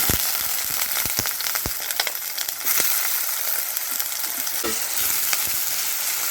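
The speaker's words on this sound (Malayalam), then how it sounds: "ചോപ്പ് ചെയ്ത മീഡിയ സൈസ് സവാള അത് ഇതിലിട്ടിട്ട് നന്നായി ഇളക്കി കൊടുക്കാം" Two chopped medium onions frying in coconut oil for tomato curry, being stirred: an even sizzle broken by sharp scraping clicks of the spoon at irregular intervals, no voices.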